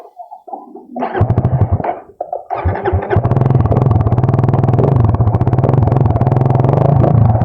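Motorcycle engine with no plate, heard close and loud: a few uneven bursts in the first seconds, then a steady, throbbing run that holds to the end.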